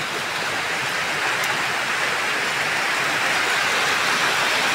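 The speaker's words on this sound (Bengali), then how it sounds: "অনেক জোরে জোরে বৃষ্টি হচ্ছে" Heavy rain pours down in a steady, dense hiss, loud and unbroken throughout with no voices.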